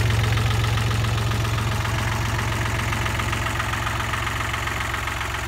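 A 1983 International Harvester 274 diesel offset tractor idles close by, a loud, steady chugging with an even low rhythmic knock that runs unbroken from start to finish.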